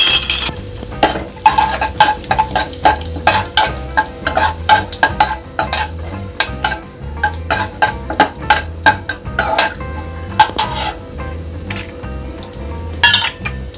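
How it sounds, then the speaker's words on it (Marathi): Cumin and fennel seeds crackle and sizzle in hot oil for a vegetable vermicelli pulao, under repeated loud metal clinks and scrapes of a spoon stirring the pan. "फणाक जिरे आणि बडेशेपी घालता."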